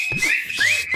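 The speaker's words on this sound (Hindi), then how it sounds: "सीटी बजाओ।" A shrill whistle blown in short, sharp blasts, loud and close, with no voices over it.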